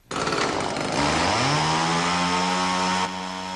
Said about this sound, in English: the sound of a chainsaw